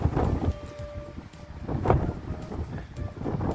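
Gusty wind buffets the microphone in uneven rumbling bursts, loud and close, with no one speaking.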